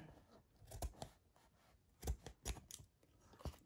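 Scissors snip the corner of embroidered felt in a few quiet, separate cuts, close by and faint, with small gaps between the snips.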